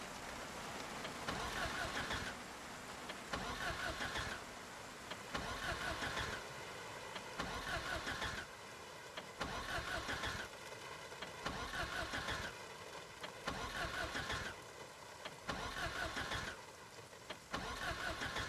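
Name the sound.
car engine cranking but not starting in Project Zomboid video game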